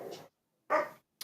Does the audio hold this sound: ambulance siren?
no